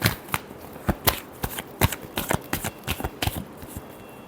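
Tarot cards are shuffled by hand up close, making a run of crisp, irregular slaps and flutters for about four seconds with no talking.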